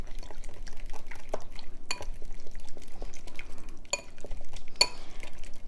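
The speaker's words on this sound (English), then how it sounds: "So now I'm going to mix it." Chopped cilantro and garlic being mixed for a Puerto Rican pernil marinade, with wet squelching, scattered clinks and taps of utensil against bowl, close up and fairly quiet.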